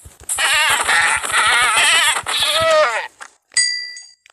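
A goat bleats loudly in a long wavering call, followed by a short metallic ding.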